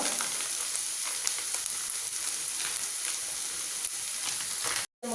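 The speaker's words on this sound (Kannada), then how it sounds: "ಇತ್ತೆ ನೀರುಳ್ಳಿ ಕಾಯ್ಗೊಪ್ಪ ಮೂಲು" Sliced onions fry in hot oil in a pan, a steady, fairly loud crackling sizzle that runs on without pause and cuts out briefly near the end.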